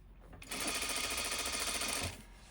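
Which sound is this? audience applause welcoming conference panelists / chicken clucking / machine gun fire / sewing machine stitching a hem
sewing machine stitching a hem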